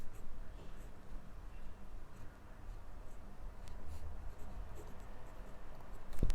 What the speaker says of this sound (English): I will first write it in regular scripts